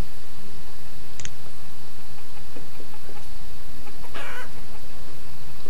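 Chickens clucking in the video game Banished, a few short clucks and squawks over a steady, dense background bed of game ambience.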